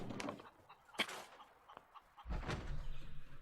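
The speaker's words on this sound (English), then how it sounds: "Yeah, I got little chickens. My chicken coop." Small chickens cluck in a coop inside the video game Fallout 76, with soft scattered clucks and chatter that are brief and moderately close, rising to a busier flurry of clucking near the end.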